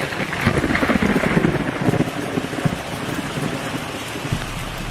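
Steady heavy rain on a rainy day, a dense continuous hiss and patter close by, with a low rumble underneath and no voices.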